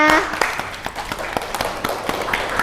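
Applause in a classroom: a brief burst of scattered hand claps, moderately loud, with some background voices.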